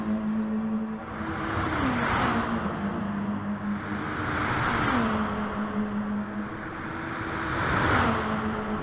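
A race car roars down the straight at Bathurst, its engine note climbing and falling in repeated surges as it runs through the gears, loud and steady under a broad rushing noise.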